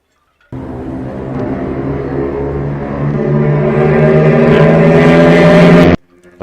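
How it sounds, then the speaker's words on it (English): A noisy pizza delivery moped passes close by at a cruise port, its engine buzz rising steadily in loudness and pitch over several seconds before cutting off abruptly. "It's just a noisy pizza delivery moped."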